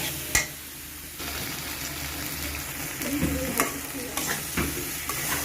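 Spices and salt are stirred in a hot cooking pan, a close sizzle broken by a few scraping strokes and clinks of the utensil, with no talking.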